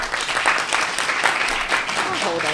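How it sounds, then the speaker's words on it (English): An audience applauding at a community event on re-entry and redemption, dense clapping that stays loud and steady throughout with faint voices mixed in. "I need a round of applause."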